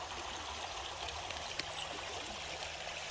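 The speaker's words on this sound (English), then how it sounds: "here is the water flow. It's really high." High, fast water rushing through a prospecting sluice in a normally dry channel, a steady broadband wash and gurgle heard up close, continuous with no talking.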